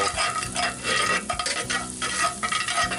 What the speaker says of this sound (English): And just kind of keep stirring that in until